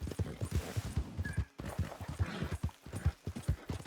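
Rhythmic clip-clop of a horse galloping in Red Dead Redemption 2, steady hoofbeats at a fast pace with a brief pause midway, close and moderately loud, no talking.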